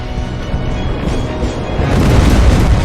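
Rocket explosions in Terminator Resistance: a heavy, rumbling boom that rolls on and grows louder and fuller toward the end.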